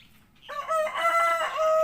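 A rooster crows once, loud and close, a long drawn-out call rising after a brief quiet start; the bird is a hen-house fowl being treated for a cold.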